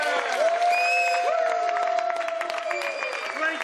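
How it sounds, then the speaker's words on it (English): On a film set, a crowd claps and cheers for the child actors, with sustained applause and a few voices or whistles rising over it throughout. "Let's give the kids a warm round of applause."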